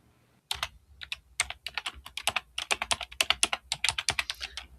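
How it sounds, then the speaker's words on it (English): Rapid typing on a computer keyboard, close and clear, with dozens of quick key clicks in uneven bursts after a short quiet start, heard alone without talk. "I'm like typing in 1930s eyebrows"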